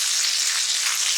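Ginger frying in a hot wok for Kung Pao chicken gives a steady, bright sizzle, close and fairly loud, with a continuous hiss and no talking.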